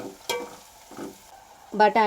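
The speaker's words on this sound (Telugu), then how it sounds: "ఇప్పుడు పసుపు మంచిగా కలుపుకోవాలి." A spoon scrapes and stirs turmeric into a frying tomato and pea curry base, giving a few short separate strokes with a low sizzle between them and a quick double scrape at the end.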